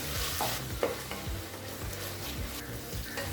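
Onions and green chillies sauté in a pan with a steady, close sizzle, broken by intermittent scraping strokes as the mix is stirred, with no talking.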